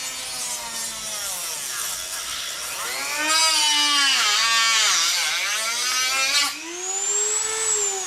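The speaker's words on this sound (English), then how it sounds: "just Dremel through it." A Dremel rotary tool cuts through a model jet nacelle for a JetScout build, giving a continuous high, whining grind whose pitch dips and climbs as the bit bites into the material, close and steady with no talking.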